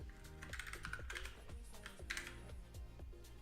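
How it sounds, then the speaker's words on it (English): Slow typing on a computer keyboard during live coding, irregular clicks and clacks close to the microphone over a dense, busy low hum. "I'm typing very slowly because I'm now using the Munender keyboard."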